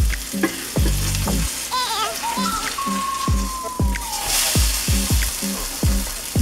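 Chicken fried steak sizzling loudly in a frying pan, a dense close crackle with rhythmic thumps and scrapes as the pieces are handled, plus a brief high whistling tone partway through, no talk.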